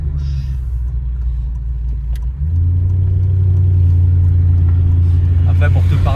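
A car with a Ferrari engine drives close by, its deep engine rumble idling low at first, then stepping up into a louder, fuller drone that holds steady.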